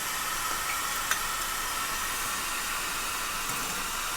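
Onions with ginger garlic paste frying in a kadai, producing a steady hissing sizzle with a few faint stirring ticks, close and even throughout, no voices.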